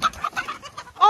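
Chickens clucking on a farm as they are chased and caught, several short agitated clucks close by, rising to a louder squawk at the end.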